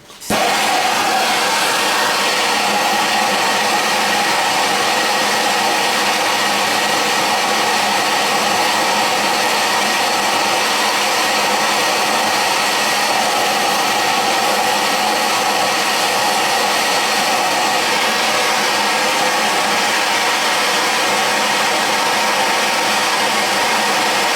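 A heat gun blows steadily on a line to soften it for bending during a motorcycle build, its broad, even airflow roar loud and close, running unbroken from start to finish with no talk.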